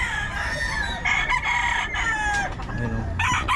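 Gamefowl roosters of Golden Boy or sweater lines at a market in Bocaue, several birds crowing loudly and overlapping at close range, with clucking and crowd murmur behind.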